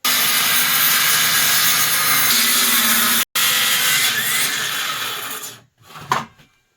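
A battery power tool cuts scrap wood for a bird feeder with a loud, steady grinding buzz, breaking briefly, resuming, then slowing and winding down as the cut finishes.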